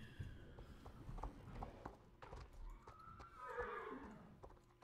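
A horse named Hazel whinnies with a rising, wavering neigh near the end, while hooves clop and shuffle irregularly throughout, fairly close but at modest loudness.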